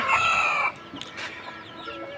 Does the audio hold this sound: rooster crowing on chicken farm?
yes